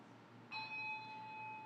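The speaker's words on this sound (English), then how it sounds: "So when I hear that silver bell" A small silver bell rings once, bright and clear, its tone lingering and slowly fading over a soft background hiss.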